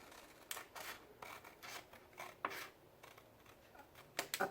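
Scissors snip through folded paper while a stationery gift pocket is made, a series of quiet, crisp cuts in an uneven rhythm, close by in an otherwise quiet room.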